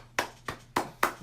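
Four sharp, evenly spaced hand claps, close and dry, from one person mimicking a crowd's applause.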